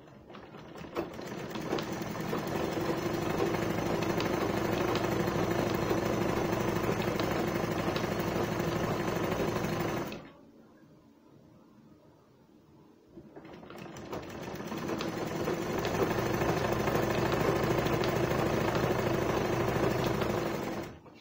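A sewing machine runs in a steady, loud mechanical whir while stitching a gown; it stops for about three seconds partway through, then starts again and keeps running to the end, with no talking.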